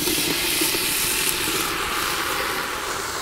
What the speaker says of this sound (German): dann werden wir anfangen, dass wir uns unser Gemüse hier anbraten werden